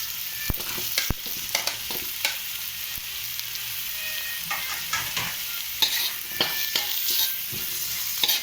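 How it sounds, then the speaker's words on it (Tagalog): Chayote (sayote) sautéing for chop suey in a pan, a continuous sizzle with repeated clicks and scrapes of a utensil stirring throughout, no talking. "okay, next po natin na ilalagay, igigisa is yung sayote"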